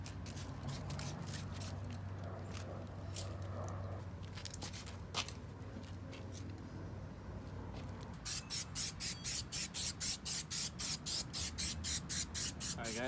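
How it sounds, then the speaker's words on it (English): Coating sprayed onto a towel for detailing a Subaru STI, heard as a run of short, evenly spaced spritzes, fairly close and clear, following a quieter stretch of scattered hisses and rustling. "Just spray it on the towel, wipe it on the car."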